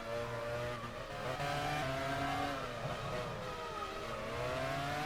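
Race car engine in the 2014 Chinese V-Prix pulling out of the pit lane, a steady loud whine with rising and falling pitch as it accelerates, no voices over it.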